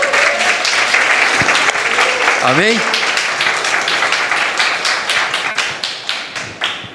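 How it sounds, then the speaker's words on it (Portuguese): Church congregation applauding at a Portuguese-language service, dense sustained clapping fading into scattered claps toward the end, with a brief spoken word from a man over it. "Aplauda o Senhor pela vida dele."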